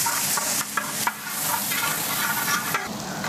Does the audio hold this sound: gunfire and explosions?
no